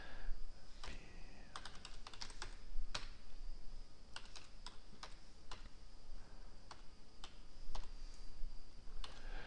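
HTML code typed on a computer keyboard, irregular bursts of crisp close key clicks with short pauses, quiet and with no voices.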